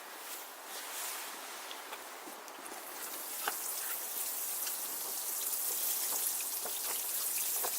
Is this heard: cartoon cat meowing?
no